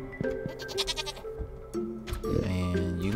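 Goats on a Stardew Valley farm bleat several times in a row, short wavering cries close and clear over light game music, with no voice.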